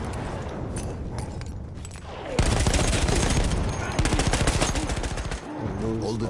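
Gunfire from a hard-to-control gun in a PS4 war game, a loud fast automatic burst that starts suddenly and rattles on for several seconds amid battle noise, with a brief lull and then more firing.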